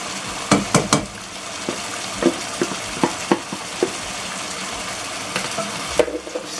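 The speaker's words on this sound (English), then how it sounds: "I'm just going to mix everything" A spoon scrapes and clacks through okra soup in a metal pot, giving a string of sharp knocks and stirs over a steady sizzling hiss, with a clear close-up clatter.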